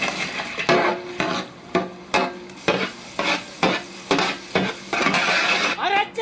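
Chopped onions fry in cold-pressed sesame oil for a duck fry while a spoon stirs and scrapes the pan in a steady rhythm, each loud scrape over a constant sizzle.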